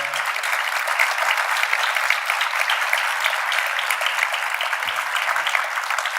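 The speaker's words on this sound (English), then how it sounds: "Again, big round of applause for Rod." A keynote crowd at Pitch Club Michigan 2018 gives speaker Rod Hairston a big round of applause, sustained, dense clapping at steady volume for several seconds with no one talking over it.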